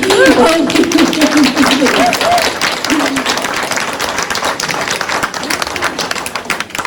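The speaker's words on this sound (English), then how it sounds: "I think I can see the starting of people wanting to applaud, so please go ahead." Audience applause at a vegan-themed interview event, with a steady dense clatter of many hands close by that runs the whole stretch while a voice talks over the opening seconds.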